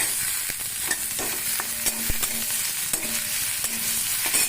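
Potatoes and onion fry in hot oil with cumin seed and bay leaf, a steady close sizzle broken by occasional scrapes and taps of a spoon stirring in the pan.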